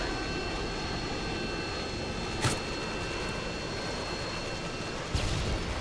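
A Harrier jet in the Modern Warfare 2 video game gives a steady, dense engine roar throughout, with two brief louder bursts standing out over it.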